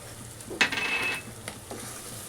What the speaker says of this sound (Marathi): बस थोडंसं परतून घ्यायचं याला.